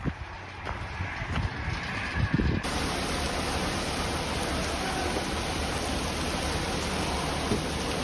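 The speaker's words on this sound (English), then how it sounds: "I guess we're going to be waiting inside for a little bit for the rain to calm down" Heavy rain pours steadily at a scrapyard, a dense continuous hiss that swells abruptly to full strength after a few seconds and stays loud and even, with no talking.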